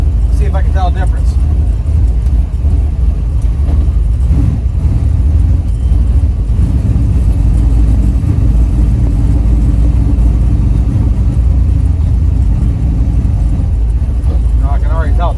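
A 1967 Camaro fitted with new quick-turn steering arms and a bump steer kit rumbles loudly on a test drive, its engine droning close and heavy from start to finish while someone talks over it.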